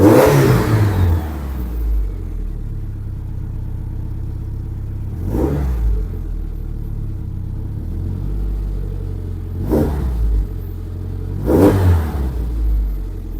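A Saab car engine idles with a deep, steady rumble, rising in three or four brief revs that swell and fall back, heard close with no voices.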